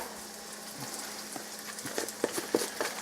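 Sofrito sizzling and frying in a pan after meat has been browned for arroz con gandules, a steady close crackle with a few louder pops toward the end.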